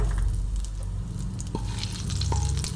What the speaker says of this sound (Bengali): কালো জিরে এটা আমি ফোড়ন দিয়ে দিলাম